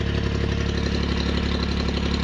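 A Bobcat engine runs steadily after an engine change, a close, even idle with a constant low throb and no breaks.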